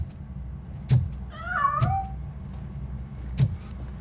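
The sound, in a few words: cat meowing in video game RoboCop Rogue City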